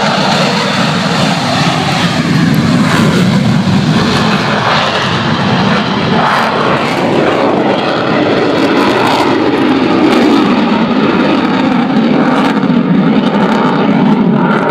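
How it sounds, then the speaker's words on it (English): Eurofighter Typhoon FGR4 jet at the Waddington air show, a loud continuous roar that stays steady and close throughout, broad jet noise with no speech over it. "the Typhoon is repositioning to go downwind, of course, which is the safety thing to do with one already in the runway"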